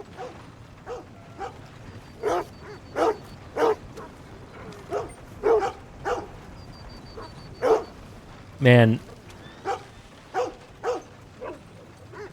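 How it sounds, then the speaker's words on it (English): A puppy in Red Dead Redemption 2 gives a long series of short barks and yips at a steady pace, each bark loud and close, with someone speaking briefly between them. "Puppy!"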